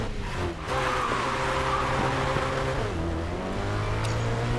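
A Ferrari F8 accelerates in the Racing Master video game, its engine a loud, steady drone with rising revs and a shift change partway through, running without any talk.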